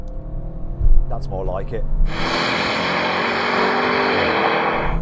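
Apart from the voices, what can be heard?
BMW M5, Audi RS6 and AMG E63 S accelerating in drag race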